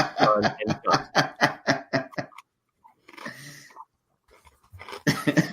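A burst of repeated rough coughs close to the mic, followed by a quiet pause, a muffled sound, and another short cough-like burst.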